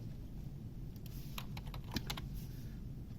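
A computer keyboard clatters as a short command is typed during AutoCAD drafting, a quick burst of close, crisp keystrokes with one louder tap near the end over a quiet room hum.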